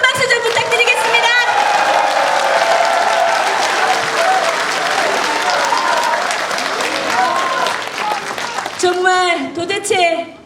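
Loud, sustained audience applause at a Korean talk show event, a dense wash of clapping that carries on for several seconds before voices break through near the end as it fades.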